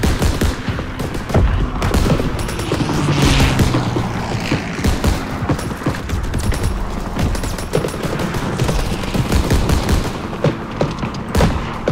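Heavy machine gun fire in the Call of Duty: WWII mission Bloody Snow: dense, continuous bursts and rattling volleys with booming impacts, loud and sustained throughout, layered over a busy battlefield din.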